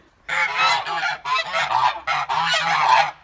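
Several Kholmogory geese honk loudly and close by, a noisy overlapping chorus of harsh calls in bursts with brief pauses between.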